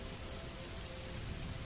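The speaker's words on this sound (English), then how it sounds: "under the ever-falling, otherworldly rain" Steady, dense rainfall patters across a broad hiss, an otherworldly night shower heard alone at an even, unbroken level throughout.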